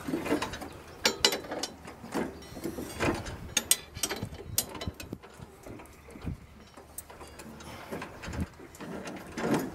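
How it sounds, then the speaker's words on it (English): A ratchet tightens a blade bolt on a Snapper lawn mower, giving bursts of rapid close metallic clicking with short pauses and handling knocks in between. "I got a ratchet on the end of this"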